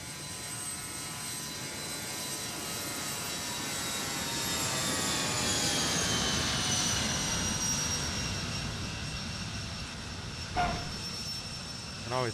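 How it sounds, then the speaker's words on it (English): Simulated aircraft taking off at Aspen in X-Plane 11, a rising engine whine with layered tones swelling toward the middle and sustained, with a couple of short clicks near the end and no talk. "Hear that plane taking off."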